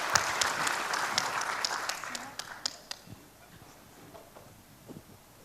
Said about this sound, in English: give a round of applause to Ibu Tri Dewi.